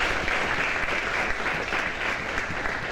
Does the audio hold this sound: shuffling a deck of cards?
no